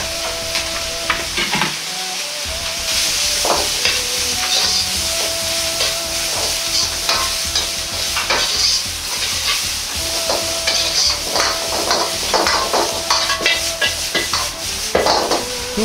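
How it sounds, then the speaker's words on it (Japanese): Steady sizzling of cabbage stir-frying in a hot pan, with a spatula scraping and tossing throughout, no voices. "キャベツを入れて炒めます"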